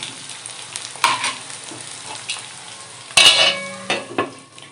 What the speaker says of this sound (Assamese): মাংসখিনি এতিয়া কেৰাহী দি দিছো এনেকৈ 3 মিনিটমান ভাজি লম